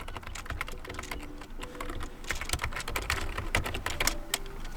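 Rapid keystrokes on a computer keyboard while an email address is entered to sign in to a Microsoft account on an ASUS ROG Xbox Ally X, a steady close stream of taps with uneven rhythm and no voices.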